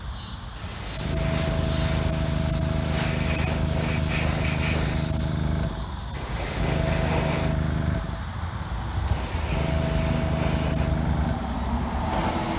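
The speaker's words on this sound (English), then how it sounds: "Let's put some sealer on this bad boy, shall we?" Aerosol sealer sprays onto a custom build in three long hissing bursts, each a few seconds, close and loud, with short gaps between.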